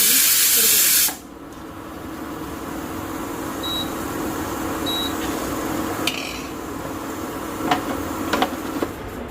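A loud burst of hissing steam rushes out for about a second, then cuts off abruptly, leaving a quiet background hum with a few faint clicks.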